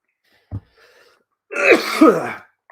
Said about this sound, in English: this cough just keeps coming up